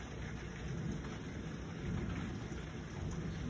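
A night thunderstorm with heavy rain: thunder rolls in a deep, continuous rumble beneath a steady hiss of rain pattering on surfaces, with no voices heard.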